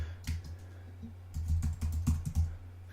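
Keys clatter on a computer keyboard as a file name is typed, with short bursts of close, crisp taps over a faint steady hum.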